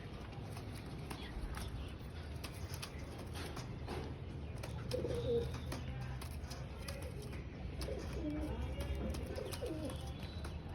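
Pigeons coo softly and repeatedly in a loft, their low murmuring calls steady throughout with a few brief chirps and faint rustling in the background.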